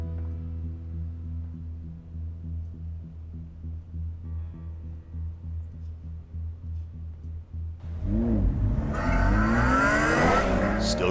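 A car engine in the Batman Telltale video game, first a steady low droning idle, then a sudden loud burst of revving and roaring acceleration near the end that stays close and intense.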